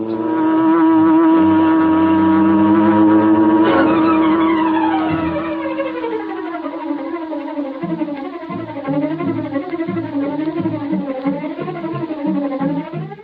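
A huge, sleek black car in an old radio drama sound effect: a loud, sustained tire skid and squeal that winds down into a wavering engine drone as the car drives off, with no talking.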